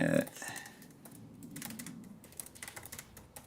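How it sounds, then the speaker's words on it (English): Soft clicks of typing on a computer keyboard, close and irregular, after a brief loud burst at the start. "Apologise if you can hear all my typing."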